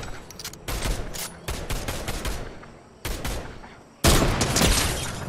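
Rapid automatic gunfire in a Fortnite firefight, loud bursts of close shots separated by short gaps, the last burst the loudest and densest.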